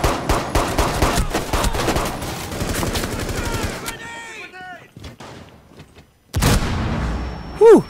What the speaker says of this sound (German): Die Granate hätte mich beinahe gebumst